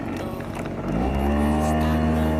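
A small scooter engine revs up close and holds a steady, strained whine as its wheel slips on a muddy village road in Guria, Georgia, continuous and loud throughout.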